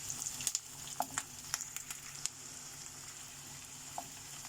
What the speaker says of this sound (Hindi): ओनियन को फ्राई करना है, बस सॉफ्ट करना है, इसे ज़्यादा फ्राई नहीं करना है।